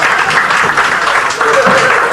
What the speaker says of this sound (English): Give a massive round of applause, ladies and gentlemen.